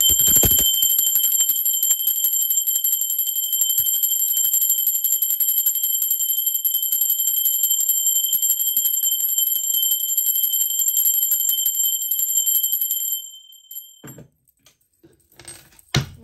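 A bright metallic bell rings continuously for several seconds with a steady shimmering tone, then cuts off, leaving faint rustles and small clicks.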